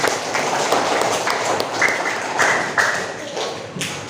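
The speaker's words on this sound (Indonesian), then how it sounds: "Tepuk tangan untuk Kenji." Classroom of students clapping for a classmate, steady dense applause from many hands filling the room, fairly near and continuous throughout.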